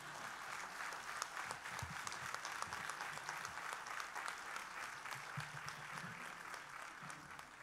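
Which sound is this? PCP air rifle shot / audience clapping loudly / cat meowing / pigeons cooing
audience clapping loudly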